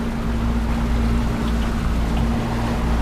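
A large motorboat engine runs steadily with a loud, even drone and a strong low hum, mixed with wind and water noise and no pauses.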